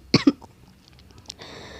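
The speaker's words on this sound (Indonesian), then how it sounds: "karena lagi batuk-batuk" Two sharp coughs from a person in quick succession, close and fairly loud, followed by quiet room noise and a faint hiss.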